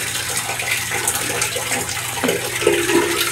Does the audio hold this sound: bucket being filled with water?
yes